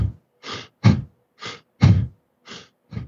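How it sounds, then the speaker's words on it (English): Breath of fire style fast breathing, seven sharp forced nasal exhales in quick uneven rhythm, close-miked and breathy, each puff short and separated by silence, no speech. "That's more like breath of fire."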